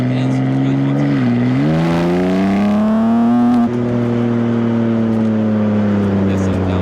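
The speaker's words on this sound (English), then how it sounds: "There's some downshifts" A modified BMW G80 M3 drops through gears while driving, engine tone falling and then flaring up in revs before settling into a steady, loud cabin drone, with someone talking over it.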